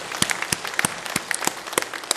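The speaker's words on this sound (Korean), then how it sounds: "박수합니다" A church congregation gives a short burst of applause, scattered hand claps from a modest group in a room, irregular and fairly close.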